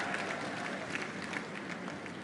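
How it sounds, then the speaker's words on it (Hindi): Audience applause at a public event in Gwalior, a steady dense patter of many hands clapping throughout, fairly loud and close with no clear talk over it. "अरे दिल से जोरदार ताली बजाओ"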